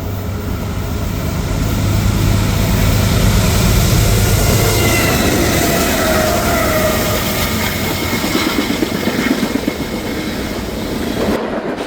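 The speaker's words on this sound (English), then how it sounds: "I would catch my fourth reactivated Dash 8, this one being CSX 7780 leading M561." CSX Dash 8 locomotive 7780 leads freight train M561 past, a loud sustained diesel rumble and rolling wheel roar that swells and holds, with rhythmic clacking of cars over rail joints late on.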